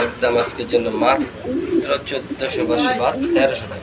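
Pigeons coo at a pigeon farm, their throaty rolling calls close and mixed with someone talking over them.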